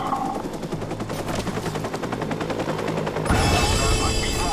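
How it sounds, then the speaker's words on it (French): Rapid machine-gun fire rattles steadily in a video game battle in Watch Dogs, then gives way abruptly to a loud, dense helicopter rotor roar near the end. "bah là il y a carrément un hélicoptère"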